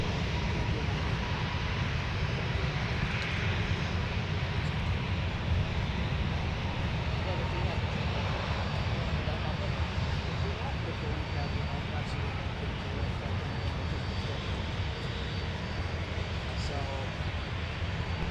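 A jet airliner at MSP airport gives a steady, broad engine roar throughout, heard from a distance and continuous, with air traffic control radio voices talking over it.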